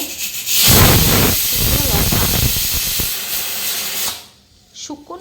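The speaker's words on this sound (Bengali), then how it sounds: "এই যে প্রেশার কুকারে আলু সেদ্ধ বসিয়েছি আমি" A pressure cooker boiling potatoes on a home stove releases a loud, sustained steam hiss that lasts several seconds, then cuts off abruptly, followed by a brief faint sound.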